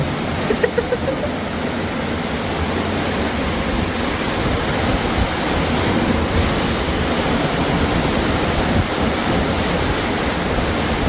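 Water from an amusement park ride at Gold Reef City gushes and splashes over riders, a loud, dense, continuous rushing roar like a waterfall.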